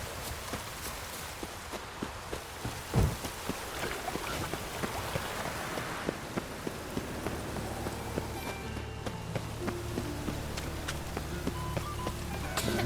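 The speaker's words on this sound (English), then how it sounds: "Oh, aye, rain." Steady rainfall in the video game The Witcher 3, a constant soft patter of drops on surfaces with scattered louder taps and a low hollow rumble, heard alone without talk.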